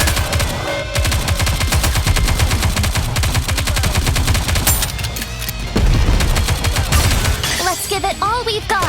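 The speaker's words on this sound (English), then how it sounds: "We need to fire straight ahead!" Rapid, loud automatic gunfire from the video game Nikke: Goddess of Victory, a dense, continuous rattle of shots with heavy booms, carrying on for several seconds with only a brief dip.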